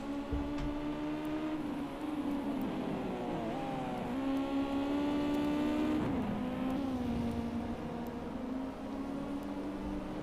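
Race cars in Gran Turismo 5 during an online championship race hum with a steady, sustained engine whine that rises and dips in pitch with gear changes and throttle, moderately loud and uninterrupted.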